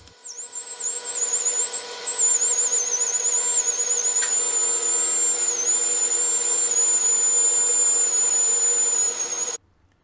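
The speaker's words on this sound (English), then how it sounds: "We are going to use a 330 burr for this particular step, and we're going to make these little notches in here" A 330 burr in a dental handpiece cuts notches for incisal reduction on a ceramic veneer, making a close, steady, high-pitched whine that holds for about nine seconds before cutting off abruptly.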